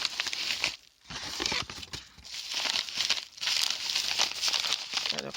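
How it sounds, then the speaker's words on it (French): A paper envelope is opened and small electronic kits shipped from China are pulled out, producing continuous close crinkling and rustling with brief pauses. "je les ai sortis de l'enveloppe"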